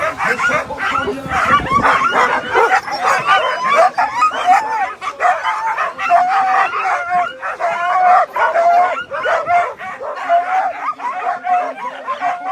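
A team of sled dogs at a race start in Val Cenis, La Grande Odyssée, yip, bark and howl nonstop and loudly while a commentator talks over the din.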